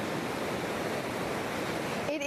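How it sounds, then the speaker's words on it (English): Heavy water release rushing out of Falls Lake Dam, a loud, dense broadband roar close by with no pauses, and a voice briefly breaking in at the very end. "Army Corps of Engineers is going to release more water from Falls Lake Dam."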